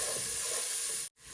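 A hot baghar tempering poured into a pot of Sylheti akhni gives a loud, close, steady hiss and sizzle that cuts out abruptly for a moment, then resumes.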